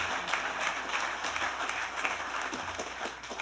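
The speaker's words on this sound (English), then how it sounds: "So let's applaud Kyle Hilbert and welcome him." A crowd claps loudly and steadily at the grand opening of a leadership campus, welcoming a speaker. The applause is a dense, sustained wash of hand claps from a nearby audience, with no voices over it.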